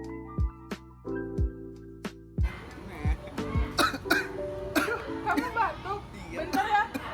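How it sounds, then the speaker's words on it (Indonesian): A friend's wet, phlegmy cough comes in several sharp, close bursts, spaced apart, and then gives way to chatter and other people talking over further coughs. "teman saya batuk"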